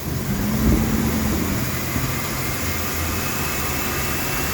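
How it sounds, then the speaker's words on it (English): Engine of a 1999 Mercury Mountaineer held at a raised idle, a steady loud drone with a slight swell near the start, a constant hum running underneath. "rev it up a little bit"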